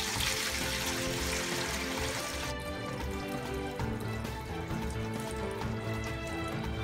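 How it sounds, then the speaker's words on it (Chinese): Clear water poured off settled flour batter while making hand-rolled liangpi, a steady splashing pour that runs loud and continuous, brighter for the first couple of seconds and then settling into a lower, fuller gurgle. "面水已经沉淀好，倒掉上面的清水"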